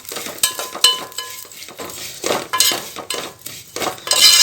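Vermicelli is roasted in ghee in a pan for Alleppey-style upma, heard as repeated metal clinks and scrapes of a spoon stirring against the pan, close and fairly loud with irregular strokes and faint sizzle underneath.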